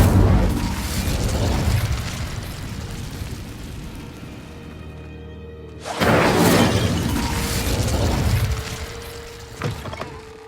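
Incendio, a fire spell cast in Hogwarts Legacy, lets out a loud booming burst that fades into a lingering rumble, then a second strong blast and a smaller pop near the end.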